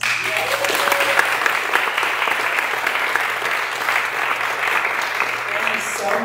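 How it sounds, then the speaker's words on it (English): A church congregation at a Sunday service gives a long, even round of applause, a steady, close wash of clapping with no pauses, lasting about six seconds. "I want to have one last big round of applause for Kelly Robbins"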